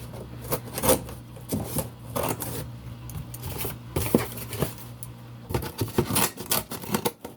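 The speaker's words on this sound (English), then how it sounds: "Then you just take your scissors, cut down right where you did it at." Scissors cut through cardboard along a perforated line in a run of close, crunchy snips and rasping slices, coming in uneven bursts with short pauses.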